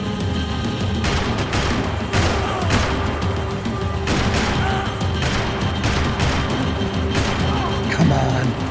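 Gunfire in the Max Payne 3 video game, a dense run of repeated shots in bursts over a constant loud background of engine roar and action noise, close and heavy throughout, with voices calling out amid it.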